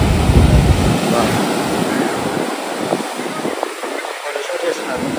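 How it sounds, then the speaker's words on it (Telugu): Strong ocean waves surge onto Kovalam's black-sand beach in Kerala, a loud, continuous roar of surf mixed with heavy wind buffeting the microphone. "ఎంత ఫోర్స్ఫుల్గా వస్తుందో వాటర్."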